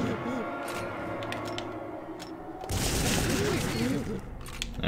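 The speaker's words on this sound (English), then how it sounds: "Let me bring out frickin' chimps with guns now." Chimps with guns in TimeSplitters: Future Perfect fire scattered shots, then a louder, denser volley of gunfire breaks out midway, with game noise and a voice talking.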